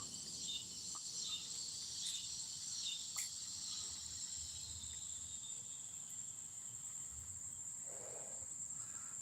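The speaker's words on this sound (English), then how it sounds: "Check out how loud these cicadas are getting over here." Loud cicadas chirping near tree roots during an outdoor stroll, a continuous high-pitched shrill drone that holds steady, fairly close, with faint rustling beneath and no talking.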